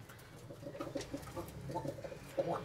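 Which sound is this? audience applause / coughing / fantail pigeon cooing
fantail pigeon cooing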